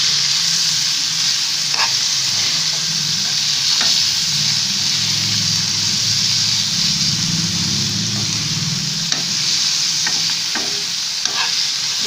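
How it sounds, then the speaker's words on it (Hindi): Garlic sautés lightly in hot oil for mango pickle, a steady close sizzle with occasional stirring scrapes and clinks, loud and continuous and with no one speaking. "हल्का सा सौटे कर लेना है बस, ताकि इसका कच्चापन थोड़ा सा निकल जाए"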